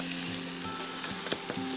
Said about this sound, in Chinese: 要先开始把那个鹅肉，我们一样先煸炒过